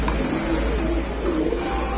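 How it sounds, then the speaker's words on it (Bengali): A pigeon coos from inside a cage at a pigeon-selling shop, a soft rolling call over a low steady hum. "খুব সুন্দর একটা কবুতর"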